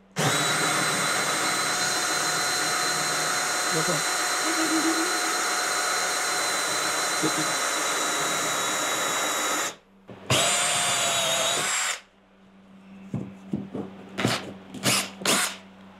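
A power drill bores an angled hole through a wall for an air-conditioner condensate line, a loud sustained whine broken by a brief pause and restart, then short bursts and rattles as it stops.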